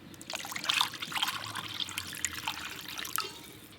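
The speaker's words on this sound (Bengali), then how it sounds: "আর একটু জল লাগবে, জল দেব।" Water trickles steadily into a cooking pot set up with a stand and tiffin box for steaming hilsa fish, a close, continuous pour with no talking.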